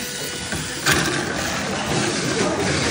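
A Mini 4WD car on an MA chassis runs slowly around a three-lane track with its motor sounding weak. It gives a faint, steady buzzing whir with a small knock partway through.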